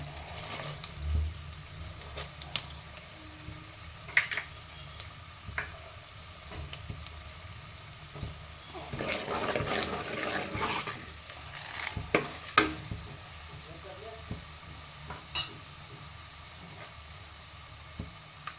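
Mustard seeds, chana dal and urad dal spatter in hot oil with a faint, intermittent crackle, plus scattered sharp ticks and a denser burst of sizzling midway.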